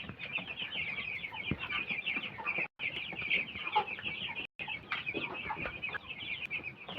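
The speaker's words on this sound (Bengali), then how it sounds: "মুরগি মাখা হয়ে গেছে, কেরেটের ভিতর দিয়ে দিচ্ছি" Poultry chickens cluck steadily and excitedly at close range as they are loaded into a crate in rainy, muddy conditions for market, with a few brief dropouts.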